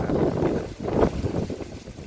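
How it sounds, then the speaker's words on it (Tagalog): Strong wind gusting across an outdoor vegetable garden planted with chili peppers, rumbling loudly into the microphone in steady buffeting waves with no voices. "lakas lang ng hangin"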